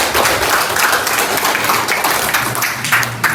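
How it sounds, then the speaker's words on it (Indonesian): A classroom of students claps together in a brief, lively burst of applause that stays loud for a few seconds. "Tepuk tangan untuk temannya."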